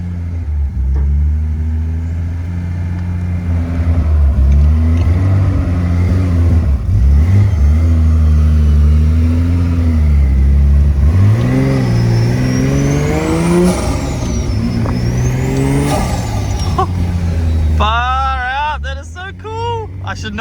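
A Datsun 280ZX with a turbocharged L28 engine being driven, its loud close engine drone rising and falling through gear changes and throttle blips, with someone talking over it.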